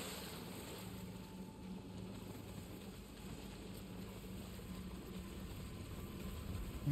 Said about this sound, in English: what is splashing around down there?